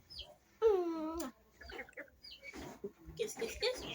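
A pet parrot gives a loud, rising squawk-like call near the start, followed by softer chatter and background voices of kids and adults talking at home.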